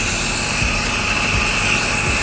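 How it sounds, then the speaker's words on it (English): A home hyperbaric chamber's compressor running with a steady, loud, close mechanical drone and a constant high whine, with no pause throughout. "So now I'll shut off the compressor."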